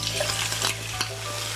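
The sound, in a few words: pan-frying vegetables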